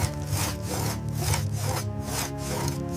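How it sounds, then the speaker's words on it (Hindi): An iron saw cuts into a wooden tree trunk with steady back-and-forth rasping strokes, about two per second, loud and close, continuing without pause and without any voices. "सैनिकों ने आरी को पेड़ के तने पर रखा।"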